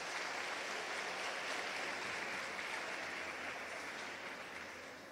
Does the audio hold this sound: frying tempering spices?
no